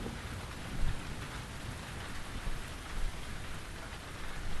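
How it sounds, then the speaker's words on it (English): Heavy rain with rumbling thunder in the video game The Invisible Hours: a dense, steady downpour hissing across the surface with low thunder rolling underneath, and no voices. "Could I persuade you to come out of the rain, Flora?"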